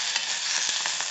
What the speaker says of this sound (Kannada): ಈಗ ನೋಡಿ, ಚೆನ್ನಾಗಿ ಅದನ್ನು ಫ್ರೈ ಮಾಡ್ಕೋಬೇಕು ಆ ಸೊಪ್ಪನ್ನೆಲ್ಲ.